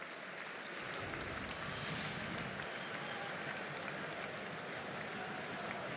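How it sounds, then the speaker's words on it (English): Stadium crowd at a Norway vs Sweden international friendly football match, a broad, steady roar of cheering and applause that swells slightly midway and holds throughout. "Again, the crowd saying have a go."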